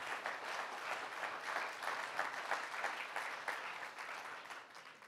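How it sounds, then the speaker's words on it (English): A church congregation applauding a special guest, continuous dense clapping from a large crowd, soft and somewhat distant, steady for the whole stretch. "let's give our special guest a round of applause"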